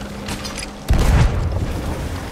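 A ship's cannon fires in Sea of Thieves, one sudden heavy boom that lands partway through and gives way to a rumbling tail, set against a steady background of sea and ambient noise.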